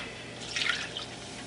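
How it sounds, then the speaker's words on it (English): Water is poured into a thick mixture while cooking an African and Jamaican fusion dish, giving a short, close splashing trickle that swells briefly and then fades, with no talking. "So I gotta add more water."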